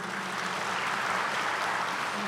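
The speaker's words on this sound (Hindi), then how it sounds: "ताली तो बहुत अच्छी बजा रहे हो" Dense, steady clapping from a seated audience at a spiritual discourse, a continuous even patter with no voices over it.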